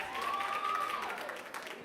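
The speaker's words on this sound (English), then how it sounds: "Let's give them another round of applause." A brief burst of applause from a crowd, clapping steadily under a faint sustained tone.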